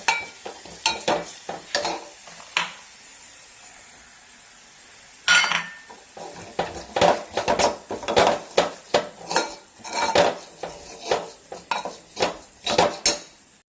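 A spoon clatters and scrapes against a metal pot as masala powders are stirred into sambar vegetables, in bursts of sharp clinks with a pause partway, over light sizzling.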